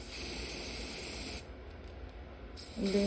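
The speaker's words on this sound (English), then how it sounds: "You're going to get your holding spray." Hair holding spray hisses from a can in one steady burst of about a second and a half, close and fairly quiet, followed by a softer hiss and a faint handling sound.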